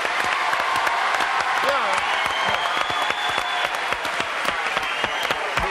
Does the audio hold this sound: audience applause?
yes